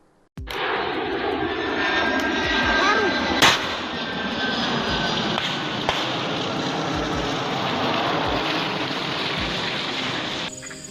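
A TNI transport aircraft's engine roars loud and continuous at close range in Yahukimo. A few sharp cracks like gunshots punctuate the drone, which cuts off abruptly at the end.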